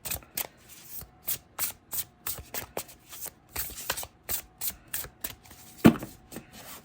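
A deck of oracle cards is shuffled by hand, close and fairly quiet, in repeated soft swishing bursts with a steady rhythm and one sharper slap near the end, with no talking.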